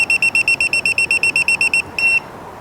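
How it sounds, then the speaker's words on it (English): A high-pitched electronic voltage tester chirps rapidly, about a dozen short even beeps, then pauses before one longer beep, loud and close. "if it beeps, that means it's hot"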